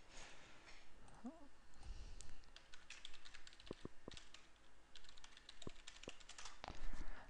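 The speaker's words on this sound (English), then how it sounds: "I'm now going to type in the password once again." Keys on a computer keyboard clack in irregular bursts as a password is typed, with sharp close taps scattered across several seconds and no talking.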